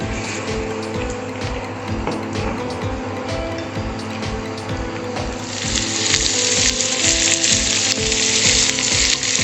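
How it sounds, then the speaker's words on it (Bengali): Potatoes frying with onions in a pan, loud and close, steady sizzling with a rhythmic scraping stir that swells into a brighter, hissier fry partway through, no voices. "পেঁয়াজের সঙ্গে আলুটাকে এইভাবে ভেজে নেব।"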